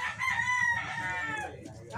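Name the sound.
gamefowl rooster crowing on game farm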